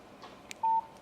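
A Windows phone automatically dials out, giving a single short, clear DTMF keypad tone mid-clip. A faint click comes just before it, against a quiet background.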